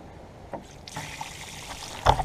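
Water trickles and dribbles from a Class B RV's fresh water tank as it drains onto the ground, faint and close, with soft splashes and a sudden stronger gush at the very end.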